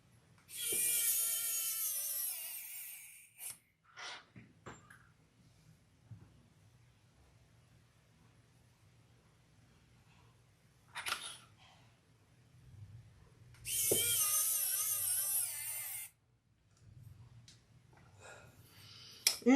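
A cordless screwdriver drives screws into a fabric shoulder bag, giving two long whirring runs about 3 and 2 seconds each, separated by quieter clicks and handling noises, fairly close and with no speech.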